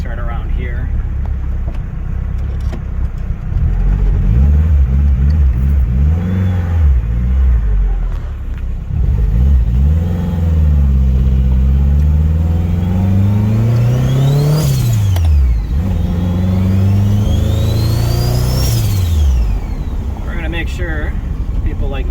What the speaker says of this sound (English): I think you can definitely hear the turbo